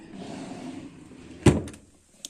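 A drawer in a makeup storage unit gives one sharp clack as it opens, followed by a few faint clicks. A soft murmur sits in the background beforehand.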